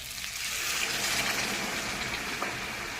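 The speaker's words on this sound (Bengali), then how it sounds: "এর ভিতরে আমি দিয়ে দেবো গরম জল।" Hot water poured into a container, a steady rushing, splashing flow that holds evenly for a few seconds, close and fairly loud, with no talking.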